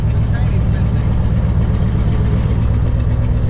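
A 1995 Ford F150 with a 396 engine and no transmission running hard, nearly floored, a loud steady low engine roar close by with voices talking over it.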